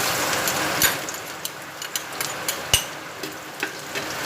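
Garlic fries in a pan for Kapampangan corn soup, with a steady sizzle broken by sharp clinks and scrapes from a utensil, close and moderately loud.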